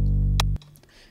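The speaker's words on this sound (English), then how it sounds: "You just drag in your 808 sample, which sounds like this in my case." A deep 808 bass sample loaded in Bitwig Studio booms loud and sustained for about half a second with a short bright click near its middle, then drops off sharply, leaving quiet low residue.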